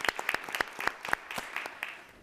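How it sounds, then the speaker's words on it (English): Scattered clapping from a small group at a school board meeting, individual claps distinct and irregular, tapering off after about two seconds. "So I think that definitely deserves a round of applause."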